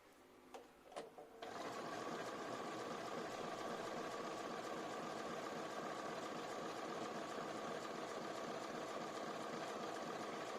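Bernina B590 sewing machine stitching quilt-as-you-go strips with batting: a few light clicks, then a steady, fast, close mechanical whirr of needle and motor running continuously to the end.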